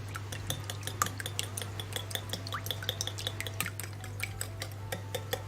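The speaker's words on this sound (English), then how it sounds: "I'm just gonna whisk this up." A whisk taps and scrapes quickly against a bowl while mixing red velvet cookie dough tinted with concentrated food colouring, giving a steady run of light metallic clicks over a low background hum.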